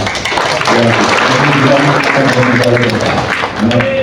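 An audience claps at a gathering in Semarang, moderately loud applause running under someone speaking over it.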